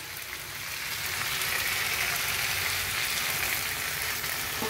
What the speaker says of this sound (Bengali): আমার সব কিছু ভাজা হয়েছে।